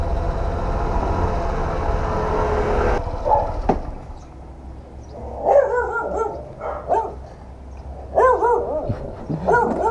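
A dog barks in short bursts with yelps and whines, fairly close, after a stretch of steady background rumble.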